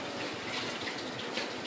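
Hot water pours into a cooking pot for Bengali-style meat, a steady close splashing gush, soft and continuous with no talk.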